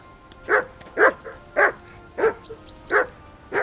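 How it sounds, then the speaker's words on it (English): In the video game Kingdom Come: Deliverance II, a dog barks six times in a steady, evenly spaced rhythm, each bark short and sharp, fairly close and alone over a quiet background. "Do something with that mutt, Henry. It's doing my head in."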